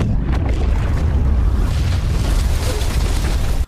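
A detonator explodes in a shark-attack film set in a flooded Paris, a loud, sustained rumbling blast that fills the whole few seconds before cutting off abruptly.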